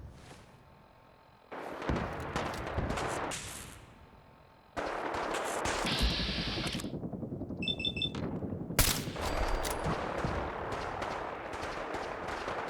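Rapid gunfire erupts in Fallout 4 on very hard difficulty, with a dense, loud, sustained crackle of shots. A brief electronic beeping cuts through partway, and no voices are heard.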